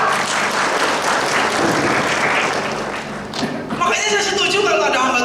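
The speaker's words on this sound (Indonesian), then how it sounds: "Boleh kita tepuk tangan buat Tuhan kita yang besar?" A church congregation at a Sunday worship service claps together in sustained, dense applause that rolls on for several seconds, dips briefly, then swells again near the end.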